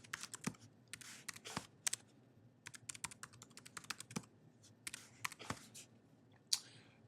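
A password is typed on a computer keyboard as a quiet, close series of irregular key clicks with brief pauses, ending in a sharper final tap.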